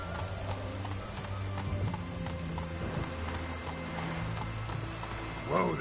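Roach the horse gallops in The Witcher 3, hooves clip-clopping in a quick steady rhythm under a low game soundtrack, with a short snort or whinny at the end.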